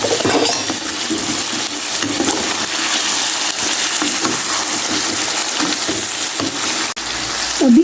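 Chicken karahi fries with spices and coriander powder in a hot pan, giving a steady, loud, close sizzle that hisses without break throughout.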